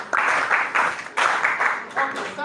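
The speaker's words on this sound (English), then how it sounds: "clap for yourselves" Students in a secondary school classroom break into applause, a burst of hand clapping that swells and dips in uneven waves for a couple of seconds, close and fairly loud, with no speech over it.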